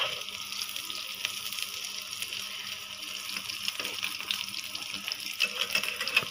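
Eggs fry in a pan with a steady broadband crackle and sizzle that holds at a moderate, even level throughout, with some watery hiss and no voices.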